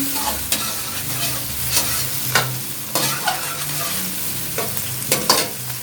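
Tomato chunks, seeded and coarsely cut, are stirred into vegetables in a pan for veg noodles, with a spoon scraping in a loose rhythm over a steady low sizzle, close and moderately loud with no voices.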